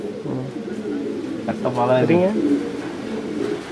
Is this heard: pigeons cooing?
yes